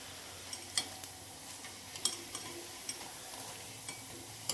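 Spinach fritters (palak bhaji) frying in hot oil, a soft steady sizzle with faint crackles and a few light clinks of a utensil against the pan, no voices.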